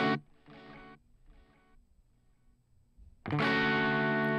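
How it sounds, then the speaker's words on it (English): An electric guitar played through an HX Stomp Fullerton amp model with distortion: a sharp chord at the start, a few fading notes with quiet gaps, then a loud sustained distorted chord ringing out. "Is the Fullerton any good for distortion?"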